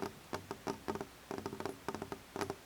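Soft, irregular taps of rain against a window glass, quiet and close, with scattered light patters in uneven clusters and no voices.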